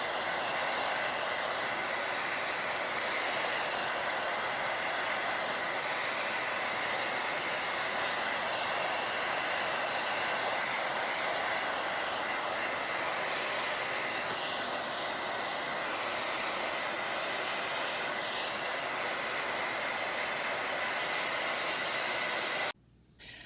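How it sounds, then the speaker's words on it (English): A hair dryer blows steadily with a loud, continuous broadband whoosh and hiss, switching off abruptly at the very end. "That was just a regular hair dryer that I use for, I have one just for my painting."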